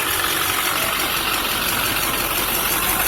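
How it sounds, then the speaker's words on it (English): A 2006 GMC Sierra 2500 with the LBZ diesel engine idling, a steady, close, loud rumbling clatter that holds evenly with no talk. "let's get back to the engine so you can hear how it sounds"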